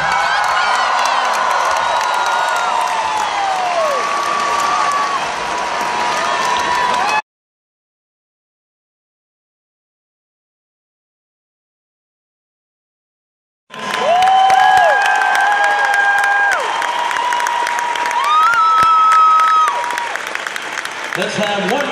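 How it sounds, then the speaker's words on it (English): A loud basketball arena crowd at a UNC versus Duke game cheers, whistles and claps, with a stretch of silence in the middle before the roar returns just as loud. "Let's have one more round of applause for the Carolina basketball class of 2015."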